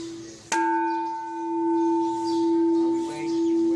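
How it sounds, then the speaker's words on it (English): A Buddhist temple bell covered in gold leaf is struck once, giving a sharp attack and a long, steady ringing tone that sustains and slowly beats for several seconds. "we ring the bell again"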